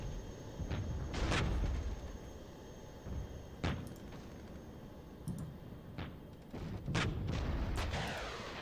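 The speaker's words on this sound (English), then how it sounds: "Uh-oh. Airstrike." Airstrike explosions in the video game Regiments thud as deep, rumbling booms with sharp cracks, several blasts spread irregularly over a continuous low battle roar.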